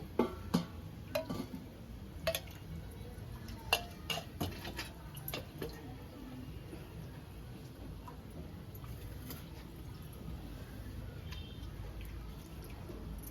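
A wok goes onto a home stove and oil is added for a chicken fry: scattered metallic clanks, taps and light clinks over a quiet background hiss, the sharpest knocks coming early and then thinning out.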